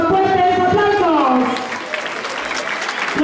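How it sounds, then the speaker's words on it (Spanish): Applause from a school assembly crowd greeting a student at a school mayor's swearing-in ceremony, loud, continuous clapping rising under an announcer's voice at first, then clapping carrying on alone. "Fuerte los aplausos para el alumno Marcelo Villegas León"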